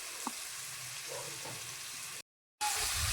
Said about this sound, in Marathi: बारीक कांदा कापलेला एकदम कापून घ्यायचे त्याच्यामध्ये तेलामध्ये लाल तळून द्यायचं आहे